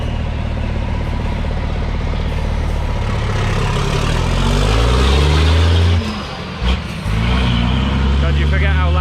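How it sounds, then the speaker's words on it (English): Racing trucks at the Nurburgring during an FIA European Truck Racing Championship session, a loud, sustained engine roar as they pass close by, pitch sweeping as the trucks go past, with a brief dip before the noise swells again. "God, you forget how loud they are."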